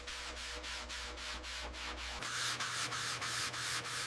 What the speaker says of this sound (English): Block sanding now, this is where the shape comes back.